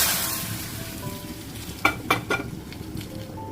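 A Telugu tadka of dried red chillies, asafoetida and curry leaves fries softly in hot oil for tomato rasam, a quiet sizzle broken by a few sharp crackles and pops near the middle.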